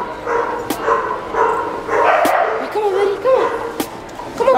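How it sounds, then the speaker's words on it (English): Several dogs bark in short bursts at a moderate distance, with some yips mixed in under a noisy background. "He heard the dogs barking."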